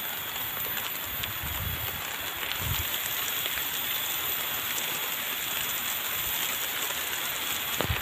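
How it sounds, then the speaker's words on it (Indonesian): Heavy rain falling in the middle of a forest near a remote villa, a steady dense hiss of drops that stays even and loud throughout with a few low thumps. "Ini teh hujannya semakin besar sahabat."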